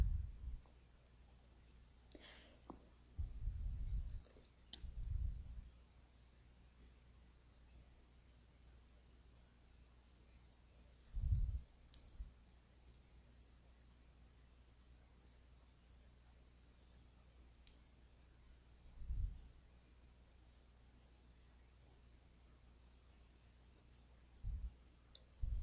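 Computer mouse clicks at a desk, a few soft, sparse clicks and small bursts spread over a quiet background with long gaps between them.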